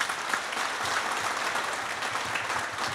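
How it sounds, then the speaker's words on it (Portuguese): An audience applauds three federal deputies at a cooperative event, a steady, dense wash of many hands clapping together, continuous and moderately loud with no pauses. "dar uma salva de palmas aos nossos três deputados aqui presentes"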